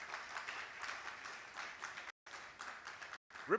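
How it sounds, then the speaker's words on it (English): Delegates at an African actuarial congress in Ghana clap in a fairly quiet round of applause that comes through faintly and steadily. It breaks off twice in brief silent gaps, and a short louder sound rises at the very end. "A round of applause for yourselves, please"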